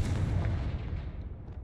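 Confringo fire spell blasting in the Hogwarts Legacy video game, a loud booming burst with a rumbling low-end tail that fades over about a second and a half.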